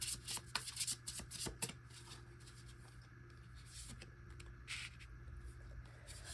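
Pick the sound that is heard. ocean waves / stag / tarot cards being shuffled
tarot cards being shuffled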